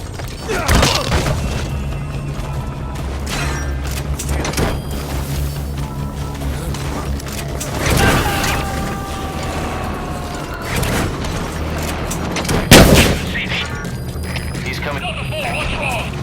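Combat in the video game Metal Gear Solid V brings scattered gunshots and heavy booms, with sharp impacts near the start, middle and end, layered over a rumbling game soundscape and a constant low mechanical hum.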